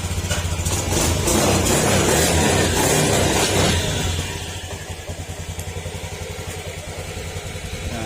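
A motorcycle engine with an error code 52 fault and poor tuning runs steadily, loud and close, with a rough mechanical clatter throughout; it revs a little higher early on, then settles into a lower idle.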